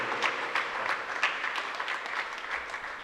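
Crowd applause at a church novena mass for a saint's feast, a soft, fairly distant wash of clapping with a few sharper claps standing out, continuous and without talk.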